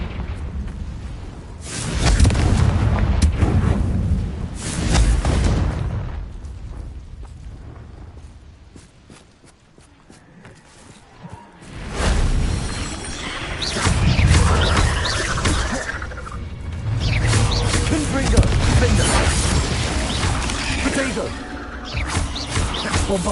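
Bombarda and Confringo spell blasts in Hogwarts Legacy: loud, booming explosions and crashing bursts recurring through the stretch, dense with rumble, with a brief quieter lull in the middle before the blasts resume.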